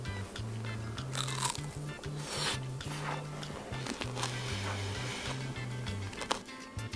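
Teeth crunch through the hard candy coating of shine muscat grape tanghulu, with sharp crackles and snaps up close over a low steady hum and no speech.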